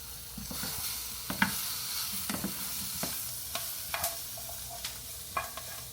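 Shrimp cook in a frying pan with a soft, continuous sizzle, broken by several sharp scrapes and clacks of a utensil stirring them, heard close up with no voices.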